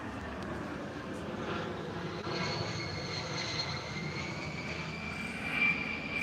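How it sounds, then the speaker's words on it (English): A fighter jet flying near an Air Force base produces a steady, distant roar with a rising whine layered over a broad rumble, sustained throughout and swelling slightly near the end. "fighter jet,"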